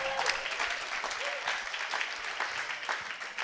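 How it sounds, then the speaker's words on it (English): A live-show audience at a bar in the Harley-Davidson Museum gives a round of applause, a dense, steady clatter of many hands at moderate loudness, with faint voices and a cheer mixed in. "That deserves a round of applause"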